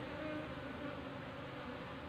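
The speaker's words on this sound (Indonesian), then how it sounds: "Namun lebah pekerja akan mengikuti kita" Wild honey bees swarming around bare hands during transfer of a wild colony into a box, a soft steady buzzing hum, faint and continuous with no voices.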